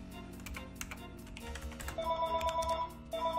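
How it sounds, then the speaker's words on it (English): A telephone rings with repeated electronic trill bursts over rapid computer keyboard typing, the rings growing more prominent partway through and continuing to the end. "phone, oh my gosh, you, stop calling"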